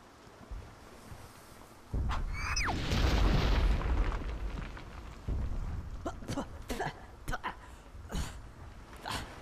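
A missile explodes in the video game Conker: Live & Reloaded, a sudden loud boom with a rolling rumble that fades over a couple of seconds, followed by scattered smaller bursts and thuds.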